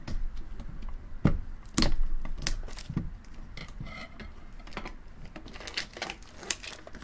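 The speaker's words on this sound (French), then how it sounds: "à chaque fois que je fais ça avec le ciseau, je raye la box, donc là je fais super attention du coup" Scissors cut open the plastic-wrapped cardboard of a Pokémon card box, making close crinkling, snipping and rustling noises with a few sharper crackles.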